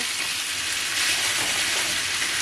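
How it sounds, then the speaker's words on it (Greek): Potatoes fry in a pan as it is stirred and shaken, a loud, steady, dense sizzle that fills the whole moment without a break. No voices are heard over it. "κουνάμε λίγο την κατσαρόλα για να καθίσουν ξανά οι πατάτες στη θέση τους"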